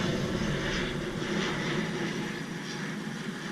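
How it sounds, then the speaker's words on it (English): Airplane flying overhead, a steady broad engine roar that stays loud and even throughout, with no talk over it. "there's a damn plane going over"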